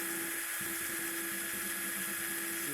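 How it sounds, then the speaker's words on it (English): A drill bit melting its way through plastic on a diecast trophy case build, a steady close, loud whirring grind running the whole time with no talk. "you're using the drill bit to kind of melt through the plastic, otherwise you end up cracking it"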